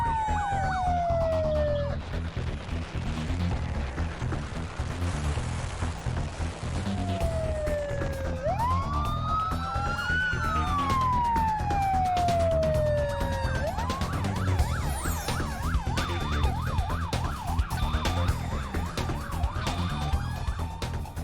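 A wailing emergency vehicle siren from an ambulance or fire truck on an emergency call sweeps up and down in long glides, then shifts into a faster warbling pattern, loud and continuous over steady road traffic rumble.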